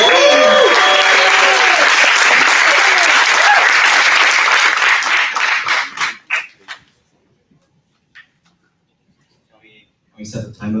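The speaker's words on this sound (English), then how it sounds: "Huge round of applause, please" A crowd at a startup demo night gives a big round of applause with a few whistles and cheers. The clapping is loud and full, then tapers off into scattered claps and near silence, with brief talking at the end.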